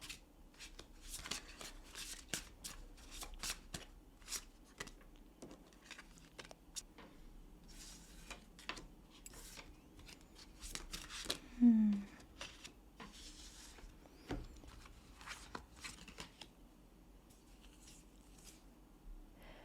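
Tarot cards being shuffled up close in a quiet room, soft papery riffles and light taps coming in scattered bursts, with one brief louder rustle near the middle.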